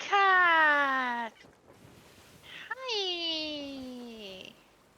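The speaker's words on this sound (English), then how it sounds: "I heard a cat! Kitty cat!" A cat in the pirate video game Sea of Thieves gives two long, clear meows, the second rising then falling, loud and close with a short quiet gap between them.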